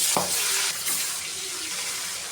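Katla fish pieces frying in hot oil, a dense, steady sizzling hiss with a sharper burst right at the start that settles into an even crackle, close up and with no talking.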